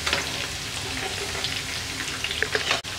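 Chicken pieces deep fry over a medium flame in hot oil, giving a steady crackling sizzle with small pops throughout.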